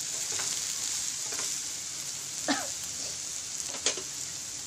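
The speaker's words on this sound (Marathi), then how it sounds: "कांदा आपल्याला व्यवस्थित परतवून घ्यायचा आहे ब्राऊन होईपर्यंत" Onion sautéing until brown in a pan for a cheesy toast sandwich gives a steady, even sizzle and fry hiss throughout, with a few brief stirring scrapes and clinks.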